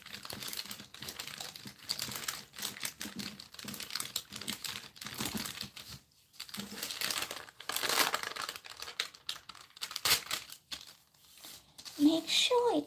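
Baking paper crinkling and crackling over polymer clay as a rolling pin rolls across it, a close, busy run of rustles and crunches with short pauses.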